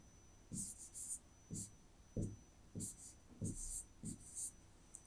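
An answer being written on paper during an English exam lesson: about seven short scratchy pen strokes in an irregular rhythm, close and fairly clear, with no talk over them.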